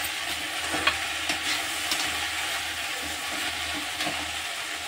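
Okra stir-fries in an uncovered kadai with a soft continuous sizzle and repeated scraping, clattering stirs of a spatula, close and moderately quiet, no talking.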